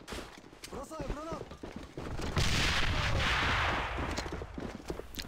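XM8 rifle gunfire in the AVA first-person shooter during a competitive match on the Cannon map, heard as dense overlapping shots and bursts under continuous commentary, with a louder sustained stretch of fire midway.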